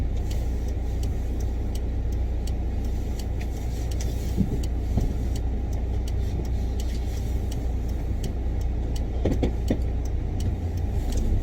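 An automatic used Kia Bongo 3 truck on a test drive gives a steady, even engine and road rumble from inside the cab, with no talking.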